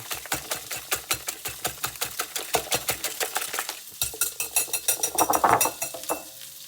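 Rapid rhythmic whisking, a utensil beating quickly against a bowl or pan in steady strokes, close and fairly loud with no voices, as butter froths in a frying pan for an omelette.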